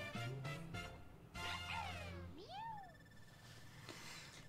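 A cartoonish meow from the game Super Mario 3D World, rising and falling in pitch, with other brief game-like chirps around it, moderately loud.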